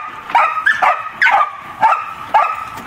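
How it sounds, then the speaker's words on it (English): A Shetland sheepdog barks in short sharp bursts, about five barks spaced roughly half a second apart, close and loud with a yelping edge. "The trio of the barking Shelties."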